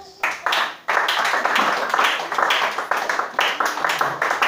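A church congregation at a worship service claps and applauds in bursts, loud and close, with voices calling out over the clapping.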